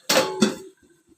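A lid set down on a cooking pot of chicken curry gives two close metallic clanks, the second a touch softer, followed by faint small rattles as it settles.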